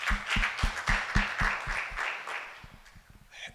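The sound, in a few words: audience applause at summit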